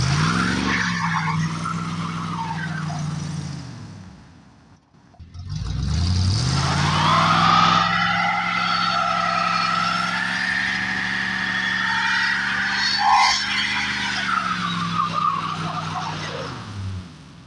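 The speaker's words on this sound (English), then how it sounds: "as I let it idle so things can circulate in there" A Dodge Charger engine runs and idles, a steady close drone with a continuous harmonic hum. It dips briefly near the start, then holds a constant level throughout.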